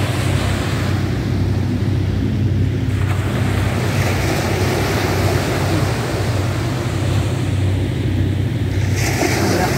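Ocean waves wash onto a beach at night as a loud, constant roar, with strong wind buffeting the microphone throughout.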